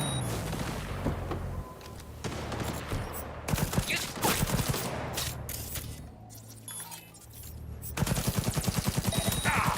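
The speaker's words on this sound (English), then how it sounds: "The bullets kind of whiz all over, even with the smart tracking" Gunfire in the video game Cyberpunk 2077: rapid bursts and sustained automatic fire in a firefight, with sharp, loud cracks repeating throughout and a fast, dense volley toward the end.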